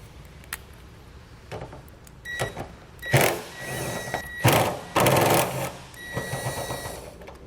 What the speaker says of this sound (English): So now we're going to take these two 10mm bolts out to get this backup camera free and out of the way.